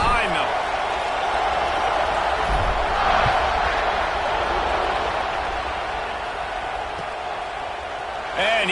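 A football stadium crowd roars before kickoff, a broad, sustained wash of cheering that stays loud and distant-sounding throughout, with an announcer talking over it.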